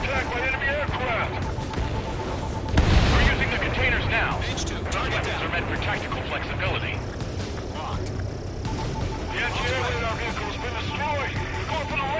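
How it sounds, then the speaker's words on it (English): Anti-aircraft gunfire in Ace Combat 7: Skies Unknown, with AA guns firing at an aircraft: a steady rumble of flak and gunfire, broken by one heavy burst near the start, with radio chatter running through it. "Anti-air guns aimed right at us."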